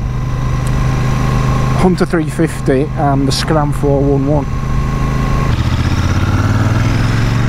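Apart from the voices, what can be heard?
Royal Enfield Super Meteor 650 motorcycle engine running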